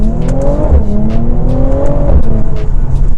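A Mercedes-AMG C43 engine revs hard and climbs, with a sharp drop in pitch at each upshift, loud and close throughout.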